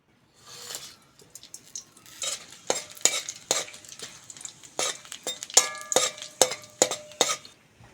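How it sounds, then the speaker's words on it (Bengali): Dried red chillies, bay leaf and five-spice seeds hitting hot mustard oil for a dal tempering, giving a close run of crackling sizzles and sharp spatters with a few metallic clinks and scrapes from the pan. "শুকনো লঙ্কা তেজপাতা আর পাঁচ ফোড়ন নিয়েছি তেলের মধ্যে দিয়ে দেবো"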